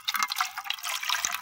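Water splashes and trickles over tangedu flowers as they are washed, a short run of close, bright pouring and dripping with no talk.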